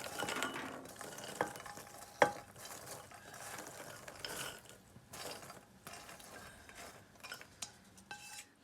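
Chana dal panjeeri stirred and roasted slowly over a low flame, a faint scraping and light rattling from the pan running steadily, with one sharper clink partway through.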